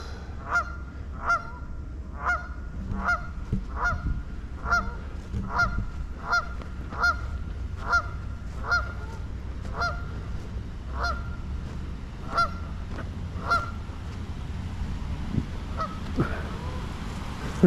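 Geese honk repeatedly in a busy, rhythmic series of loud calls close by, over a low background rumble, at Kittatinny Valley State Park.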